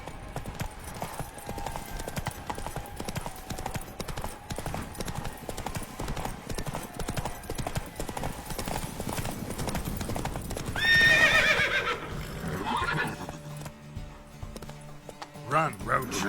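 Geralt's horse Roach from The Witcher 3 galloping in steady, rapid hoofbeats, with a loud neigh near the end and speech heard over the hooves.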